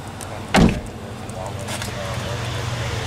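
A Buick Cascada's car door slams shut with one loud thud, then the power window motor hums steadily as the glass rises on its own, with a voice talking over it.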